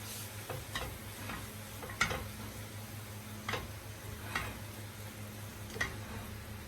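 Meat sizzles in a pan with softened, salted onions, a steady quiet frying hiss broken by occasional sharp pops and ticks spaced a second or so apart, alone without talk.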